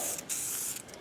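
Close, steady hiss of liquid being sprayed onto a grimy Rocket 350 engine, a continuous spray with a couple of short breaks and bursts.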